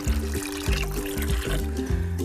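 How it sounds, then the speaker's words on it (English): Half a litre of water is poured into about five litres of paint being prepared for a first coat on bare plaster, glugging close by in a quick, regular rhythm. "we're going to add half a litre of water"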